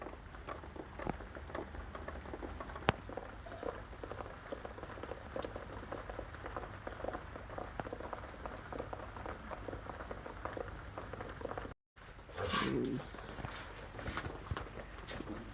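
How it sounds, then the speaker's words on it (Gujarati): Storm rain falling outdoors, a continuous hiss of drops with scattered sharper patters on nearby surfaces, steady throughout apart from a brief dropout near the end. "મિત્રો વરસાદ ચાલુ થઈ ગયો"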